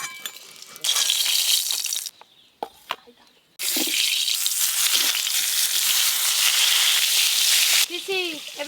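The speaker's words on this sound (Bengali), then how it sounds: "এদিকে আমার বেগুনগুলো ভাজা হয়ে গেছে" Eggplant slices fry in hot oil with a loud, continuous crackling hiss that drops out briefly and then returns. A voice is heard near the end.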